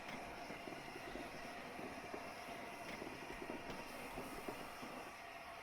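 A train slows toward a halt at London Victoria platform 17, heard from inside as a faint, steady rumble with soft rhythmic clicks of wheels over rail joints.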